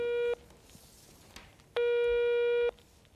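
A telephone busy signal sounds while someone tries to place a call, with two steady electronic tones, one short and one longer, separated by a quiet gap over faint background noise.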